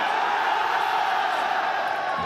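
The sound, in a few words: crowd cheering at Call of Duty esports event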